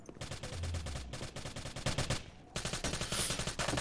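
Pistol gunfire in a competitive skirmish video game match, rapid repeated shots over busy game sounds and music, loud and dense throughout with a brief dip before a burst of bright noise.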